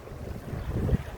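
Wind gusting by a river during a fishing trip in light rain, a steady low rumbling buffet that swells toward the end, with no voices.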